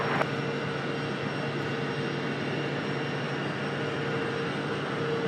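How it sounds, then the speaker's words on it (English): A JetBlue Airbus A320-200 arrives at Raleigh-Durham International Airport, its jet engines a loud, constant roar that holds steady throughout with no voices over it. "All right, next arrival, JetBlue from San Juan, Puerto Rico. An A320-200."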